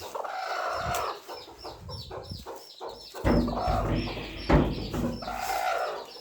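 Chickens cluck close by in a busy, irregular series of short calls, some louder and overlapping, over faint background noise.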